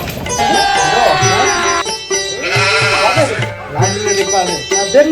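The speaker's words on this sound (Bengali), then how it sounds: "ছাগল বকরি আছে নাকি কারো বাড়িতে?" A goat bleats loudly and repeatedly close by, wavering calls coming in several bursts across a few seconds.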